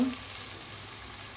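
Sliced onions fry for birista in hot oil, a brief, close, steady sizzle with faint stirring movement and no talking.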